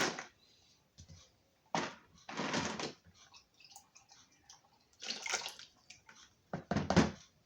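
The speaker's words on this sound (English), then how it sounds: "So we're going to dump all that into boiling hot water." Bursts of rushing, splashing water come in short clumps with brief quiet gaps as dug-up stones are poured into a container of boiling hot water nearby.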